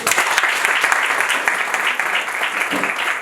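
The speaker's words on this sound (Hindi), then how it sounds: "जोरदार तालियों से" Audience applause at a live concert, a dense, steady burst of clapping filling the whole moment without a break.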